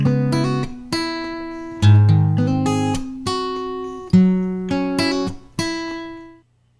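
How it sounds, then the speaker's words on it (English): An acoustic guitar plays a short sequence of plucked notes and chords, each attack ringing with bright harmonics and decaying, roughly one strike per second, close and clear with no voices. "This is a recording of an acoustic guitar."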